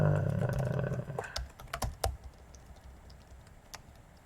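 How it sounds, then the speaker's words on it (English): Keys clatter on a computer keyboard in a few quick bursts of clicks and taps, loud at first and then fading to sparse single key presses. "Why am I typing this?"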